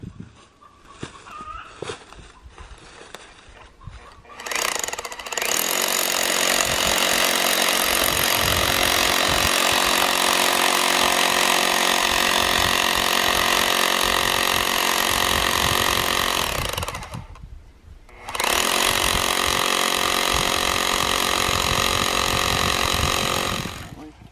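A loud, steady rock drill grinds continuously into rock for long stretches, stopping briefly once before starting again, with a few faint noises before it begins.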